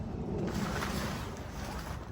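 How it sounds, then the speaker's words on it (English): Babbling creek running after rain, a steady broadband rush and gurgle of flowing water heard outdoors, continuous and fairly faint, with no talking. "The babbling creek."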